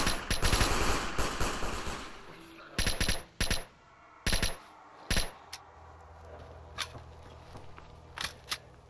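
Gunshots in the video game S.T.A.L.K.E.R. Anomaly come as a loud opening automatic burst, then several separate sharp shots and short bursts. Fainter single cracks are spread over the remaining seconds.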